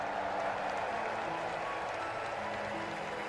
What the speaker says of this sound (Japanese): 勝者に惜しみない拍手と喝采を